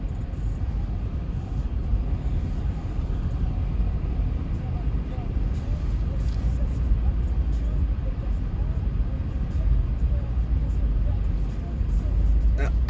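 Inside a moving car, a steady low engine and road rumble runs for the whole stretch, loud and continuous, with someone talking over it throughout.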